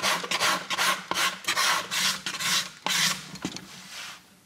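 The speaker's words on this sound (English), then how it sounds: "what I can do here is create some scratches and take my scraper" A luthier's hand scraper dragged across a scratched wood surface, a steady series of close, loud scraping strokes in a regular back-and-forth rhythm, each a short rasp, with no voices.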